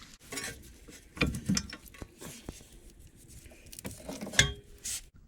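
Ratchet turning the rear brake caliper bolts on a 2013–2020 Ford Fusion during a wheel bearing job, giving short bursts of clicking and metallic clatter, close up, with brief pauses and no talk.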